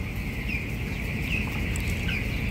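Chickens of the Topan strain in a poultry house on a hot day, clucking steadily over a dense, continuous coop hum with no talking.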